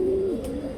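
Pigeons kept for sale give a brief, soft, low coo, a single short rolling call, close by and on its own.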